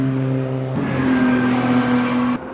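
A classic Porsche 911 race car blasts past at the Nürburgring 24 Hours on a soggy track, its engine note droning loud and close, then shifting pitch as it goes by, with no talk over it.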